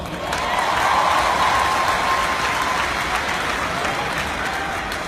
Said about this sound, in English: So please give all yourselves a round of applause.